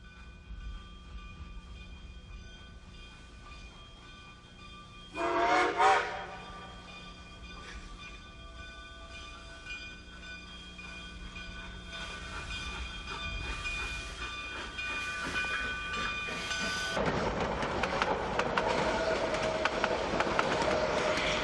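A Rio Grande narrow-gauge special train near Alamosa gets underway, a low rumble with a sharp hissing burst early on, steady rolling and tonal whistle-like hums, then a loud broadband rush of motion toward the end.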